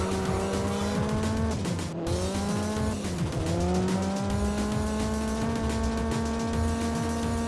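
A modified Mitsubishi Evo 6 races in the game Juiced, its engine holding a steady high whine through gear changes with brief dips, tire squeal layered in, loud and continuous with no talk.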